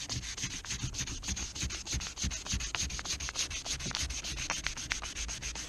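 Steady hand sanding of the rubber rear spoiler of a Saab C900, continuous scratchy back-and-forth rubbing with quick irregular strokes, close up and fairly loud, no voices.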